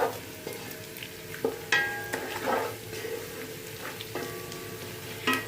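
Onions frying and browning in a pot while being stirred for chicken kosha, a close, even sizzle with intermittent clinks and scrapes of the spoon against the metal.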